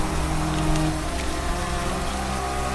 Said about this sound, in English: And rain fell on the earth 40 days and 40 nights.